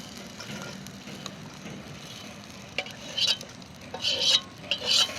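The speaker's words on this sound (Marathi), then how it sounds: "मी खरपूस तांदूळ बाजून घेतलं आणि काढून घेते" Rice being roasted in a pan for kheer is stirred with a utensil, giving soft scraping and rattling sweeps that grow louder and more frequent near the end, with a faint background sizzle.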